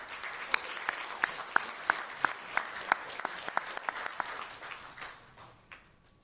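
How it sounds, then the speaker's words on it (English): An audience at an Indian Chamber of Commerce gathering in Mumbai claps for the women of India, a rhythmic run of sharp, evenly spaced claps that thins out and fades toward the end. "a big round of applause for all our women of India"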